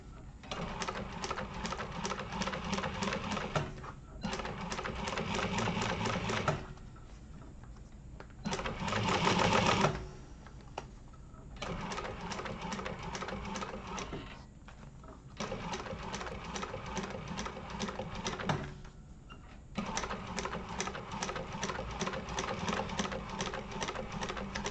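A sewing machine bastes fabric in quick close bursts of rapid stitching, stopping briefly between runs, with faint handling sounds in the pauses.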